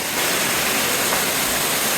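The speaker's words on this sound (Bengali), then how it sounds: "এই হচ্ছে খোয়াছড়া ঝর্ণা।" Khaiyachhara waterfall at Mirsarai, Chittagong, a loud, steady broadband roar of falling water heard up close, continuous and unbroken with no voices.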